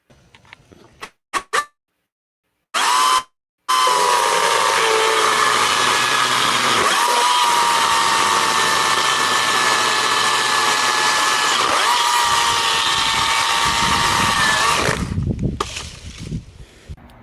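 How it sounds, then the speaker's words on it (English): A small chainsaw engine revs up after a few sputtering pulls, then roars steadily at high speed for over ten seconds before winding down. "it's a pretty nice little chainsaw"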